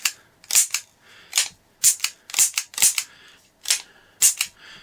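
A Smith & Wesson Model 610 10mm revolver fired in single action outdoors: about nine sharp, loud reports in an uneven series, each with a short ringing tail, no talking.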